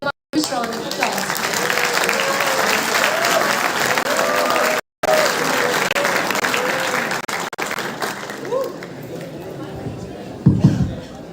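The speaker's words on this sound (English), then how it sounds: "Please give them a huge round of applause." A crowd gives a round of applause for the organizing team at the closing ceremony of Dextrix 4.0, dense sustained clapping with cheering and chatter mixed in, then thinning toward the end.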